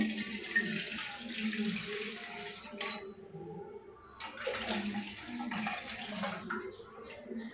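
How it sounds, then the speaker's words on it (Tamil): White rice-flour batter for modak kolukattai is strained and poured into a kadai, a close liquid splashing and trickling that pauses briefly around the middle and then resumes, with faint background murmur. "நம்ம இப்போ கரைச்சி வச்ச வெள்ளை கரைசலை நம்ம இதை வடிகட்டி இந்த கடாயில் சேர்த்துக்கலாம்."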